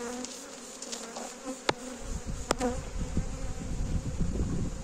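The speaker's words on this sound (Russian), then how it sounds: "Пчелы много, это меня радует." Many bees hum in a dense, continuous buzz close by, growing louder toward the end, with a few sharp clicks.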